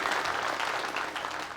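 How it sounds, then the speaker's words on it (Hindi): Sustained audience applause at an annual celebration event fills the hall, a dense, steady clatter of many hands that stays loud and even throughout, with no voices standing out above it. "अरे ताली बजाइए"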